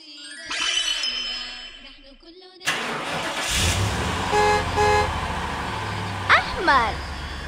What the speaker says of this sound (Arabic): سيارة.